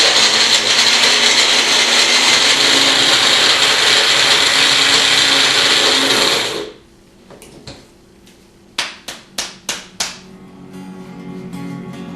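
A blender whirs loudly and steadily for about six seconds as it blends a vegan no-cheese sauce, then stops abruptly, leaving a quiet room broken by a few sharp knocks and clicks.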